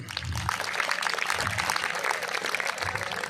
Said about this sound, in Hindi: मैं चाहूँगा एक बार आप लोग जोरदार ताली अपने स्वागत के लिए बजाइए।